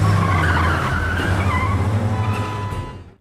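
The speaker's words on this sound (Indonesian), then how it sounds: "Dengan menggunakan mobil kesayangannya yang berjenis Porsche 944 berwarna merah, Sam menggeber mobilnya" A red Porsche 944 revs hard and skids with a loud, sustained tire squeal that fades out toward the end, heard alone without talk.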